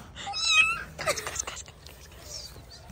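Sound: cat meowing

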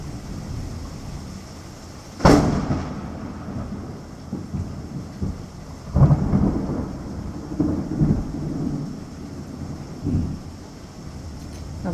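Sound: thunderstorm

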